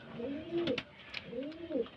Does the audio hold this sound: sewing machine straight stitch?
no